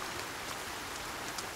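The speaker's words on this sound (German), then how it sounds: "Und schon nochmal den ersten Regenschauer hier." Steady rain shower in the survival video game Sons of the Forest, a continuous wash of falling drops hissing evenly throughout with no voices.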